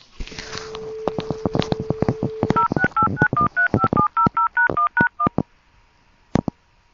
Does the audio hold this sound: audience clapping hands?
no